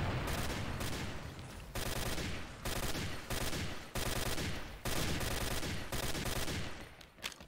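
Rapid automatic gunfire from a gold dragon TAR rifle in the shooter game XSHOT, loud and close, fired in sustained bursts separated by short pauses.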